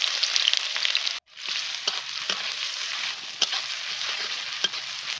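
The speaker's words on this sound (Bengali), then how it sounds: "তেল গরম হয়ে গেছে, তেলের মধ্যে পেঁয়াজ দিয়ে দিচ্ছি।" Sliced onions sizzle loudly in hot oil in a wok while cooking filling for a jackfruit (echor) cutlet. A steady, crackling sizzle breaks off briefly, then resumes with occasional stirring clicks and scrapes.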